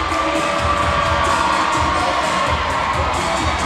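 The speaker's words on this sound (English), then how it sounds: "See the talented Gateway Gators cheer squad there" Gateway Gators cheer squad and crowd at a boys high school basketball game, a dense, steady roar of cheering and shouting voices filling the gym at constant loudness throughout.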